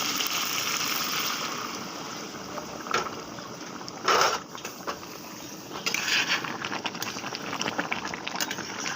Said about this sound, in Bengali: আমি এখন এখানে দিয়ে দেবো গরম জল